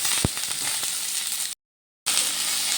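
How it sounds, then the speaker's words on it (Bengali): Onions frying lightly in oil, a continuous close bright sizzle with an early knock, briefly cut to silence before the hissing resumes. "এবার আমি পেঁয়াজগুলো একটু ভেজে নেব।"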